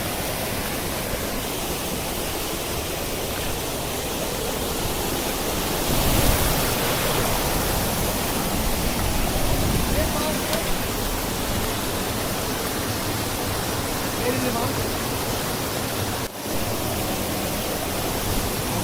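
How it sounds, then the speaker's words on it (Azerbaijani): Amanvere waterfall in the Zaqatala mountains roars loud and close, a constant dense wash of falling water that swells slightly midway and carries on unbroken. "Amanverə şəlaləsi."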